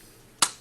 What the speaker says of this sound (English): I clap at it again, though.